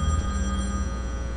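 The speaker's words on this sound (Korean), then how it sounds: "전화 왔다고." A telephone rings in a residence with a steady electronic ring tone over a low hum, continuous through the brief moment.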